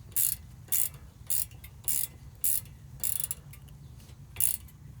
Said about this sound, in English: then you're just going to tighten these two clamps back up.